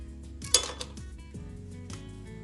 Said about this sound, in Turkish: Bardağıma 5-6 tane buz aldım.